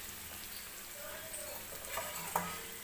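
Urad dal and rice batter roti cooks in a covered pan over medium heat, giving off a faint, steady sizzle with a few small crackles near the end.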